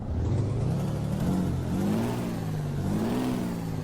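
A SCOT A2HD truck in American Truck Simulator runs its engine with a steady mid-pitched drone that rises and falls in several revving swells, close and continuous without speech.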